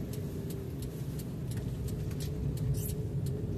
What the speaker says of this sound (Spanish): Pero solamente hay lluvia. Y los que andamos en carro.